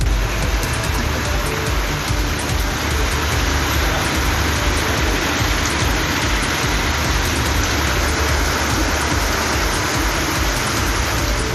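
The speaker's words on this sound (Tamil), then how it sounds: "இரவில் பலத்த காற்று மழை கொட்டி தீர்த்தது" Heavy rain pours down steadily at night during a strong wind-driven storm in Tamil Nadu, a loud, dense, unbroken hiss with no pauses and no one talking.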